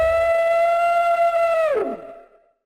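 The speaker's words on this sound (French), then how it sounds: "Gabriel Attal, quand il veut faire un bruitage de TGV, il prend un bruit de baleine." A whale call stands in for a TGV high-speed train sound effect: one long, loud tonal moan with rich harmonics holds steady, then slides downward and fades out near the end, with no voices.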